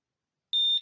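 An ANTUSI A2 bicycle alarm gives one short, clear electronic confirmation beep that starts abruptly after silence and stops cleanly, with no voices.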